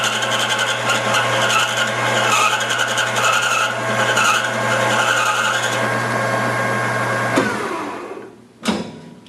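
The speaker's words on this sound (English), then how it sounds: "So I'll start the lathe. I can bring in and set up for my cut, and I can feed it along." A metal lathe runs with a steady motor hum while a tool makes an outside turning cut, a continuous, close whirring and scraping that cuts off abruptly near the end.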